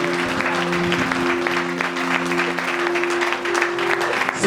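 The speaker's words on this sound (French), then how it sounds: "J'aurais aimé que nous acclamons le Seigneur. Acclamons-le en guise de reconnaissance." A church congregation applauds the Lord during a Sunday morning service, with sustained loud clapping over a steady background hum and some voices mixed in.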